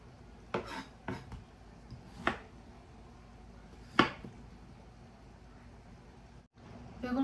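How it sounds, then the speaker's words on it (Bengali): Eggplant and onion sliced on a board at home for a fish curry, with a handful of sharp, separate knife strikes spaced out over the quiet, close by and fairly faint. "এখন বেগুন কাটবো তারপর পেঁয়াজ কাটবো"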